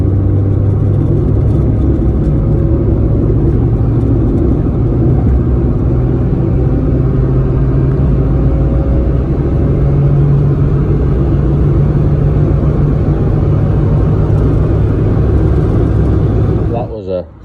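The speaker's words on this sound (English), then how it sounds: "That was a third gear pull from 50 miles an hour" A car accelerates hard in third gear from 50 mph, fitted with a CityBug cold air intake and a K&N filter. The loud engine drone holds steady and close for the whole pull, then drops away at the end.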